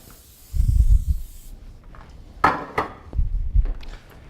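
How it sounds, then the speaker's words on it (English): Cooking spray hisses in two short bursts onto a pan, close and crisp, between clattering knocks of cookware and utensils. "Yep, just spray it a little bit."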